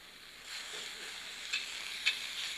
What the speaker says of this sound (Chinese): 这样子盖起锅盖来焖个三分多钟四分钟。